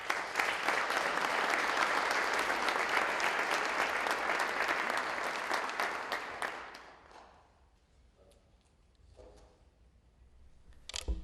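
An audience at a national agricultural merit award ceremony claps steadily and loudly, then the applause fades away, leaving a quiet room with a few scattered clicks and small noises.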